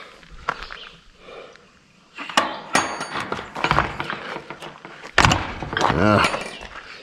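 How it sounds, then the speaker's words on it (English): Stiff metal gate latch being forced open outdoors, a run of rattling clanks, knocks and scrapes in irregular bursts, close and fairly loud. "Even the latch wants to fight with me"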